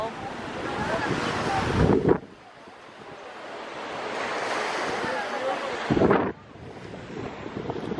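Strong sea wind and waves at the shore in Cyprus, a continuous roar of surf with heavy wind buffeting the microphone and two louder gusts.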